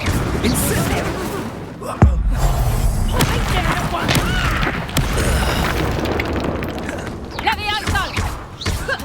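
A fiery spell blast from Hogwarts Legacy combat lands as a sharp boom amid a dense, chaotic mix of magical whooshes, impacts and crackling effects, with a character voice shouting over the loud battle.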